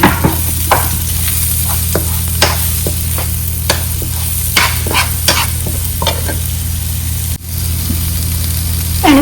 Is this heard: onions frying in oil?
yes